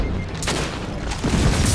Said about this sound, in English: Okay, grenade out!